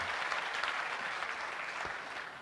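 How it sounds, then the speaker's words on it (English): A large audience at an investment summit claps in a dense, sustained burst of applause that fills the room evenly, with no voices rising above it. "Can I please ask all of you to give a big round of applause to all the"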